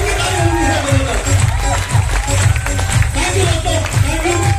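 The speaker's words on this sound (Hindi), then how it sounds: "बगैर म्यूजिक के तालियां होनी है जबरदस्त।" An audience at an AWPL motivational event claps without music, giving a loud, rhythmic crowd clapping with a steady beat throughout, mixed with voices and cheering.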